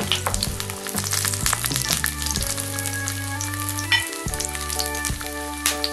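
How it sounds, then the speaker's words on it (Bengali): Ginger, garlic and green chili frying in a little oil in a wok for mushroom curry, a steady close sizzle and crackle with faint stirring, no voices. "একটু ফ্রাই করছি"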